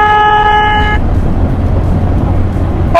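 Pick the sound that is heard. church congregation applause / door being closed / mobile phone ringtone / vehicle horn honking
vehicle horn honking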